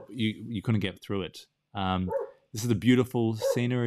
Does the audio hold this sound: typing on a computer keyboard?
no